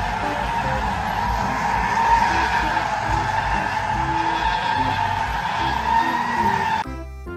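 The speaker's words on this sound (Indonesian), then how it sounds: "Ini mobil balap." A toy race car's skidding sound effect: a loud, steady, screeching engine-and-tire squeal that runs continuously for several seconds before cutting off abruptly.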